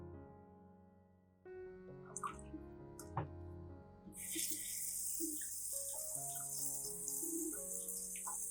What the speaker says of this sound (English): Wash the tomatoes under running water.